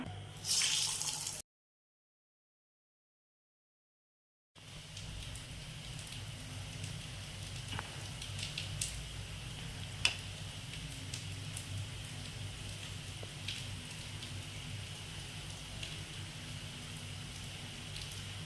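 Small balls of sweet green gram bonda batter dropped into oil on medium heat, giving a steady soft crackling fry with occasional sharper pops, close and continuous, after a brief silent gap.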